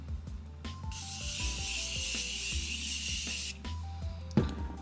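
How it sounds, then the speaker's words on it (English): Makeup setting spray misted from a bottle in one long hiss of about two and a half seconds, set against a backdrop of mechanical clicking and music. "then like to spray more setting spray."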